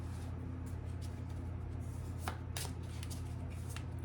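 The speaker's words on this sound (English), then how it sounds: "shuffle for a second." Tarot cards are shuffled quietly by hand, producing a few soft, brief riffling bursts over a low steady background hum.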